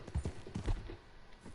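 Horse hooves clip-clopping at a steady walking rhythm in the Wild West game Red Dead Redemption 2, a run of soft low thuds on a dirt track against a faint outdoor background.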